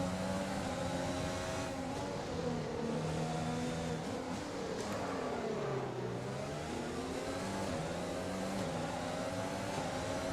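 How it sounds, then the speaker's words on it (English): Ferrari Formula 1 car engine in the F1 2020 racing game, a loud steady high-revving whine that climbs and dips in pitch through gear changes, with other engine tones layered underneath throughout. "look, it's just the power kick in, the Ferrari engine"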